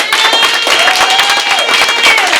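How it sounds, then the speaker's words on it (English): Studio audience clapping for the cast at a reunion taping of The Real Gaywives of Houston, dense continuous applause with crowd cheering and whooping over it, loud and close. "give a hand clap to the cast"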